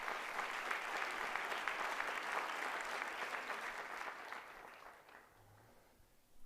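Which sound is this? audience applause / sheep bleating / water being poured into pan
audience applause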